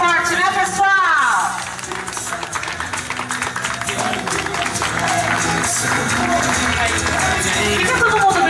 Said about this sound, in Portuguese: vocês também merecem uma salva de palmas bem forte